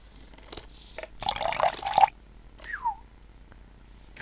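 Liquid pours and splashes in the Deponia point-and-click adventure game, a rushing burst of about a second followed by a couple of short dripping, gurgling sounds in a quiet scene.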